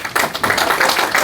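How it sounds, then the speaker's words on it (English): Applause for panelists after a panel discussion, a short burst of close, uneven clapping from a small audience. "big applause for our panelists."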